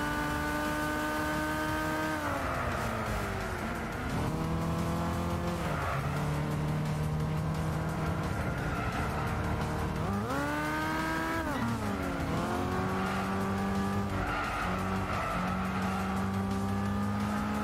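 Racing car in Gran Turismo 6, the engine revving up and dropping repeatedly through gear shifts, with tyre squeal, loud and continuous throughout with no talking.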